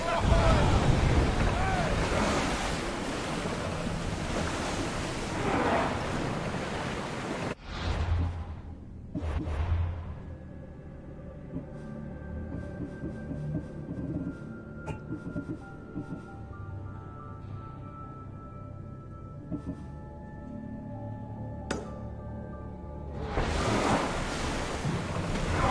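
A sailing ship rows across ocean waves in an Assassin's Creed game, with loud wind and surging surf at the start and end and a calmer, quieter stretch of lapping water in between.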